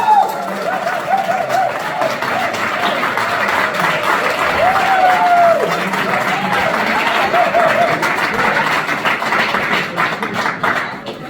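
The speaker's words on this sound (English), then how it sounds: "As I call their name, please clap for them" Steady applause from a crowd at a presidential debate held by a community association in Arizona fills the whole stretch, a dense, even patter of many hands clapping with a faint murmur beneath.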